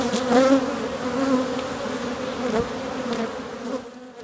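Honeybees buzz loudly and close at an open hive in a spring apiary, a dense steady drone with individual bees whining past, no talking heard.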